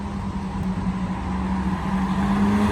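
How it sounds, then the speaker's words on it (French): Ferrari 458 engine running steadily up close, a strong low drone holding throughout with slight swells as it revs, loud and continuous with no voices over it. "Quel bruit sur cette 458"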